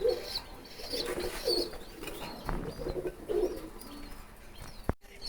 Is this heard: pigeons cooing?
yes